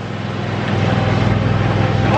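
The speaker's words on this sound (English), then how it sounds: "Onyx mowing lawn." A lawn mower engine runs at a steady, close, droning pitch for a couple of seconds without letting up.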